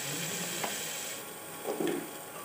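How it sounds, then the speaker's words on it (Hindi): Masala gravy with peas and mushrooms frying in a pan, a low steady sizzle with a few soft stirring scrapes near the end. "और फिर बस मटर मशरूम डाल के अच्छे से मैं सब्जी को भून लूँगी।"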